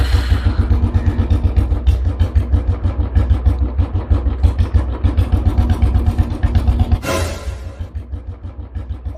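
A motorcycle engine running and pulling away along a road after elephants have crossed, a steady loud rumble with rhythmic pulsing throughout, then a brief burst of broadband noise near the end as the sound drops.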